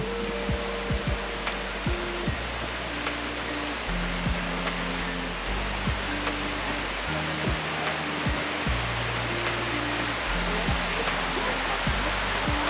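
A fountain splashing steadily at Belvedere Palace in Vienna, a dense continuous rush of falling water that stays loud and even throughout, with faint low rumbles and background movement beneath.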